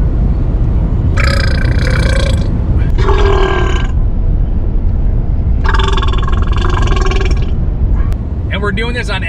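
Loud drawn-out burps in a burping contest, three long belches with a short gap between the first two, then a quicker voiced sound at the end, all over a constant heavy low rumble of background noise.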